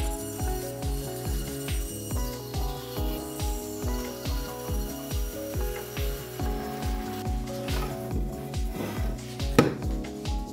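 A block of maple wood is cut with a tool that gives a steady, regular clicking and grinding rhythm, repeating about twice per second at moderate loudness, with a sharper scraping burst near the end.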